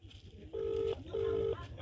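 Two long, steady telephone ringback tones sound while a call is placed to an official, each about half a second apart, clear and fairly loud over low background hum.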